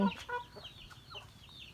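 Chickens cluck in short, scattered calls at moderate distance, with a faint outdoor background and no one talking.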